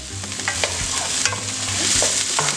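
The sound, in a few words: garlic sauteing in olive oil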